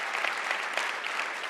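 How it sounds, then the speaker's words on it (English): Steady audience applause fills a keynote event hall, a dense even patter of many hands clapping at once, sustained at moderate loudness without any voices over it. "Round of applause for them."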